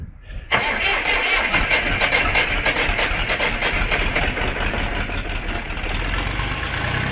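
A DTZ 5244 tractor engine catches abruptly and settles into a steady, loud, close rattling run that continues evenly to the end.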